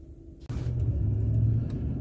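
A pickup truck drives along a snowy Wisconsin road after a snowfall, its engine a steady close rumble that starts abruptly and holds a constant drone with road noise throughout.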